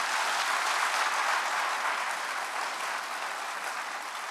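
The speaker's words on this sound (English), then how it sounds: "I imagine, yeah, it's worth applauding." Steady applause from an audience at a university event honoring a late president emeritus, a dense wash of clapping that holds level throughout and eases slightly toward the end.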